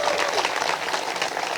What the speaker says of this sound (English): Y'all clap your hands for that.